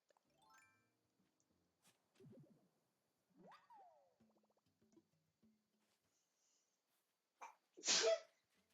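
A single loud sneeze near the end, preceded by scattered faint small noises and quiet pauses.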